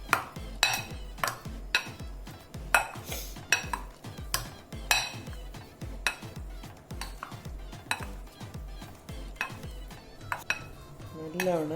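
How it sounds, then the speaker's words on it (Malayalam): Boiled potatoes get mashed in a bowl for a potato and sausage snack, a rhythmic series of repeated soft thuds and utensil clinks against the bowl, close and steady for the whole stretch. "ആദ്യം വേവിച്ച ഉരുളക്കിഴങ്ങ് ഇതിലേക്കിട്ട് മാഷ് ചെയ്യാം."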